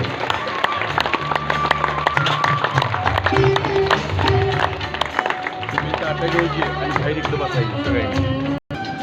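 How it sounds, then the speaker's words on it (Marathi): A crowd clapping at an outdoor Marathi cultural event, sustained dense applause running through, with a voice speaking over a loudspeaker and a brief cut near the end. "जोरदार टाळ्या वाजत राहिल्या पाहिजे"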